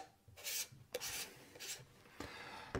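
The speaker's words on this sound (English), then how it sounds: "that just slips over the mounting ring" Bombo stainless steel and plastic composite filter holder slipping onto a lens mounting ring, three quiet close rubbing scrapes with short pauses between them.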